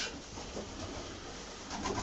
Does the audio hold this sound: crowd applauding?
no